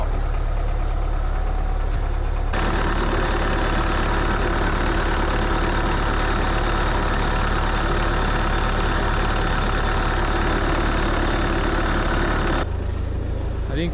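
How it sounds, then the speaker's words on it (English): A Soviet tractor engine idles roughly and loudly on its own, close by, a steady low chugging that falters near the end as if about to stall, with frozen fuel lines suspected. "tractor is about to stall."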